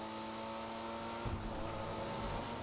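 A car in GTA 5 roleplay driven fast, its steady engine drone running throughout with a low rumble swelling midway as it accelerates, fairly quiet and unbroken by voices.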